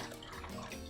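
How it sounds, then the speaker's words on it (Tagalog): Brine mixture pours steadily over pork belly in a container, a continuous close splashing of liquid lasting under a second with no talking. "ibubuhos natin dito yung ating pang-brine, yung ating brine mixture"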